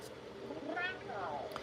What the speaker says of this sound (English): the cat is watching you and surprised to be very interested in your work